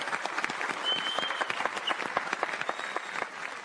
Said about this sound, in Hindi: जोरदार तालियां तिवारी भैया के लिए।